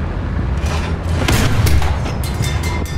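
Tank guns firing in War Thunder, heard as a rumbling sequence of heavy booms and thuds layered over dense low battle noise, loud and close with no talk.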